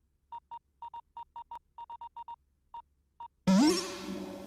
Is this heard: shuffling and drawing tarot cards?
no